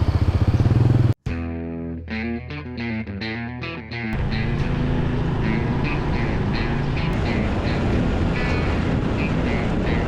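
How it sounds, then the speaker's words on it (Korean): A motorcycle engine runs steadily up close while riding in Laos, with a brief cut and shifting revs early on, then a continuous loud drone with wind noise. "오랜만에 오토바이 타니까 신나네"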